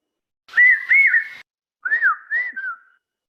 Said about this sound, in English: Common hawk cuckoo.